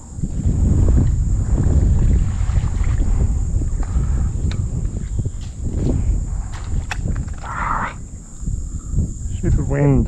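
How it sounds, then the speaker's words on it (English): Wind buffeting the microphone in gusty low rumbles while fishing from a kayak on open water, steady and loud through most of the stretch, with small knocks and movement sounds on board. "Stupid wind."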